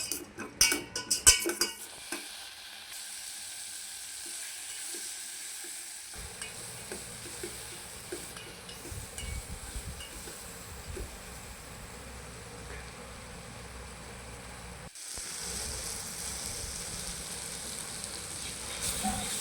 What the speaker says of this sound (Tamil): வெங்காயத்தை போட்டு நல்லா வதக்கிக்கலாம்.